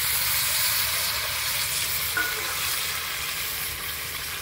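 A spoon stirs vegetables through hot oil in a cooking pan, with a loud, steady sizzle that continues without a break.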